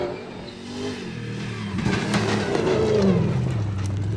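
A Toyota race car engine revving hard during a rally race, loud and close, with the pitch climbing and swinging through gear changes as it accelerates.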